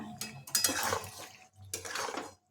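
Boiled pasta stirred through white sauce in a pan, with two bursts of scraping and clinking of a utensil against the pan separated by a short pause, close and fairly loud, with no talking.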